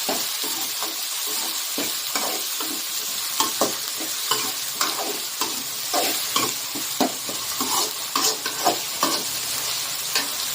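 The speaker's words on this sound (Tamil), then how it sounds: "தக்காளி நல்லா வதங்கட்டும்." Tomatoes and onions sauté in a pan for a fish gravy, giving a steady, loud broadband sizzle broken by frequent sharp scrapes and clacks of a spoon stirring, with no talking.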